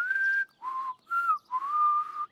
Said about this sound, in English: Whistling takes a lot of practice.